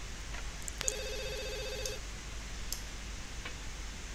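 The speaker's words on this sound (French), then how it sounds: "Il y a le téléphone qui sonne." A telephone in The Sims 2 gives a single electronic ring of about a second over a steady background hum, with faint clicks and no talk.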